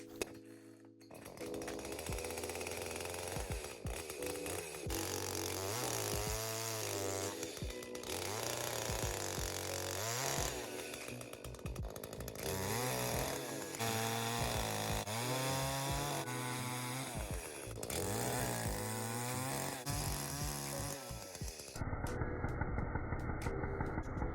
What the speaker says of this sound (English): I think I'm gonna work on turning all of that into firewood.